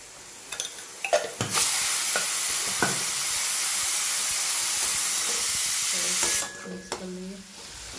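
Sugar and salt being stirred into a mixture over heat, with a steady loud hiss of steam or sizzling after a few scraping stirs, then utensil clinks and scrapes once the hiss cuts off.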